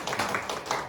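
Brief welcoming applause for a visiting friend at a youth church worship service, a short patter of clapping from a small group, moderately close.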